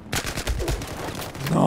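Rapid gunfire in Battlefield 4 on PC, a dense, continuous stream of shots with a voice briefly exclaiming over it.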